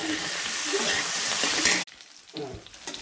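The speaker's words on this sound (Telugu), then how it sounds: "కొంచెం పసుపు, కొంచెం సాల్ట్ యాడ్ చేసి ఫ్రై చేయండి" Mixed vegetables (cauliflower, green peas, carrot and capsicum) fry with turmeric and salt, giving a loud, close, continuous sizzle that cuts off abruptly partway, leaving faint crackles and stirring.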